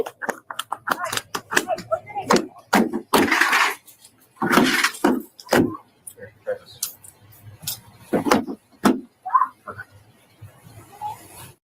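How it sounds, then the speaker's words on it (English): A deputy smashes a car window during a Kentucky law-enforcement stop, with sharp shattering glass crashes and scattered tinkling fragments interrupting close, overlapping voices. "We're gonna break the glass and we're gonna come get you."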